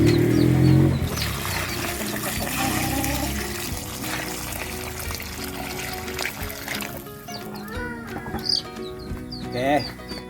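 Water splashes and trickles into a pot for Bisaya-style native chicken tinola, a busy gush at first that thins into softer pouring, with people talking over it and a few bleat-like animal calls near the end.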